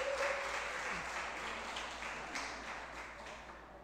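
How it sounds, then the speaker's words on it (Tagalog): A church congregation at a Jesus celebration service applauds, a soft, steady wash of clapping that fades slightly toward the end, heard from a distance. "Siya nga pong malakas na palakpak para sa Panginoon."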